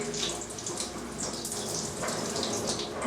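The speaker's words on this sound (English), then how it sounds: "We're going to turn that tap on and let her get used to the tap for a moment." A tap runs steadily into a tub while a cat is being bathed, a continuous close hiss and splash of water lasting throughout with no pauses.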